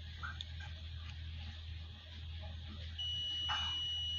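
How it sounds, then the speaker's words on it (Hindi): A digital multimeter on continuity test gives a steady, thin electronic beep that starts partway through and holds to the end, over a low electrical hum with faint clicks. "इस जगह पे बीप का साउंड आ रहा है।"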